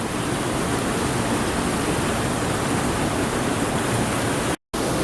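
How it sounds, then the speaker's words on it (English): Creek water rushes steadily at a trail crossing, a loud, dense broadband roar filling the whole span with only a brief cut near the end. "Yep, creek crossing."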